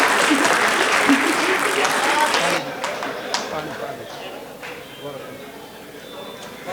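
A comedy show audience in Tohana applauds loudly and steadily, the clapping fading out over several seconds, with light chatter from the crowd at the end.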